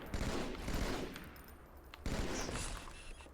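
Sustained rapid gunfire in the Halo 2 video game while Jackal snipers attack, dense overlapping shots at close range, loud and continuous with a short break midway and no talk.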